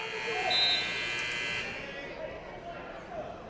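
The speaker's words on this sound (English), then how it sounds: "Got to watch those buzzers." A buzzer at a wrestling match sounds as one steady electronic buzz, moderately loud for about a second and a half, then fading into crowd noise.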